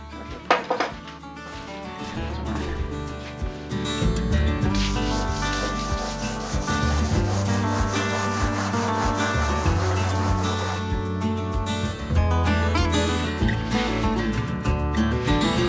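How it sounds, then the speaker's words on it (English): Steady rubbing and scraping of sandpaper over wooden pieces that already have their final coat, continuous and close for the whole stretch, with small knocks and handling noises at the start and a brief break near the twelve-second mark. "I'm going to sand them and then stack them away"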